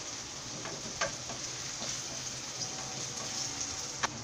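Ghee heats in a casserole pot with a steady, fairly faint sizzle and an occasional small pop or tick, no voices over it.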